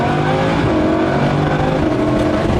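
A Lamborghini Huracan LP 610-4 accelerating hard in Corsa mode, its engine a loud, close, continuous roar rising in pitch for the whole brief moment.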